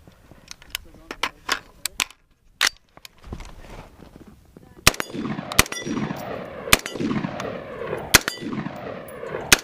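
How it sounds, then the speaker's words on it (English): AR-15 rifle shots fired at an outdoor range ring out as sharp, loud cracks, spaced irregularly and fired singly, with a person talking between some of the shots. "I usually only shoot about 3 to 5 rounds per mag"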